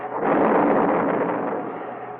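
A missile destroyed by remote control by range safety after engine failure, heard as a loud, broad roaring blast that swells quickly and rumbles on steadily for about two seconds.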